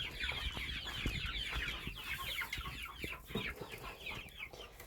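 A crowded flock of chicks clucking and cheeping continuously and busily, fairly close, with no talk.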